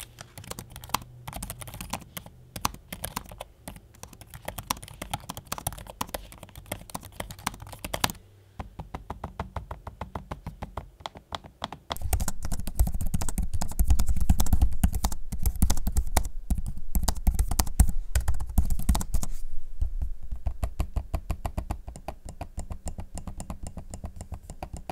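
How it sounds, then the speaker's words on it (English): Typing on the keyboard decks of MSI Creator Z16 and Creator 15 OLED laptops, a steady stream of close, crisp key clicks throughout, growing louder and denser partway through, with no talking. "here's a quick audio sample of me using them."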